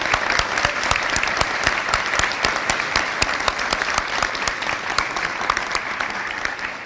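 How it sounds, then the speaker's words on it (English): Sustained applause from the audience at a 2024 commencement ceremony, dense and steady with sharp individual claps standing out near the front. "we're clapping for her as a former faculty member and also as a guest here today"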